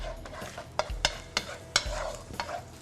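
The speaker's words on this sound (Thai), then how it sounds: "กระเทียมน้ำมันนะครับอยู่ในเตาแล้วครับ" Garlic frying in oil in a pan for Thai stir-fried thin noodles with shrimp, giving a steady close sizzle broken by several sharp utensil scrapes and stirring knocks.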